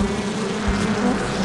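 Bees swarming from a beehive in a children's driving video game make a loud, dense, continuous buzz with no talk.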